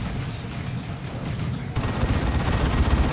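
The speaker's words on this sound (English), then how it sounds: "Assault Cannons are deadly." Heavy rapid cannon fire from Assault Cannon Dreadnoughts in a 3v3 Dawn of War 2 battle, a dense continuous rattle of shots that swells louder partway through, with booming impacts layered underneath.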